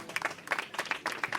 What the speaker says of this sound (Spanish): Sí, sí, un aplauso.